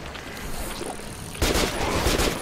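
Gunfire in the Metro 2033 shooter, starting as a low, muffled rattle and then erupting into a loud, close burst of rapid automatic shots partway through.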